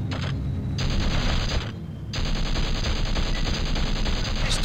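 Turret gunfire in the Battlezone video game, a dense, loud, continuous rattle of rapid shots that briefly drops away twice before resuming.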